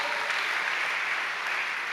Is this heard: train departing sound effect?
no